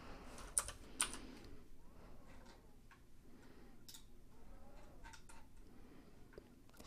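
Faint, sparse typing on a computer keyboard during software setup, a few scattered key taps over a quiet background, with two slightly sharper clicks near the start.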